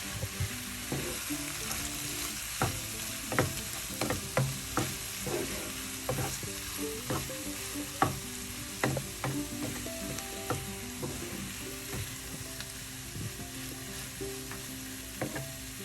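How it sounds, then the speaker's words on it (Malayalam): Chayote thoran stir-fry being stirred in a pan, regular scraping taps of the spatula against the metal over a soft background sizzle, quiet and close, with no voices. "എല്ലാം കൂടെ ഒന്ന് മിക്സ് ചെയ്യാം."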